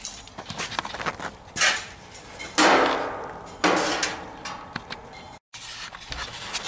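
Rusted sheet metal is cut from the A-pillar area of a 1966 Ford F100 cab, with harsh metallic bursts, tapping and a sustained rasping cut up close, broken by brief pauses.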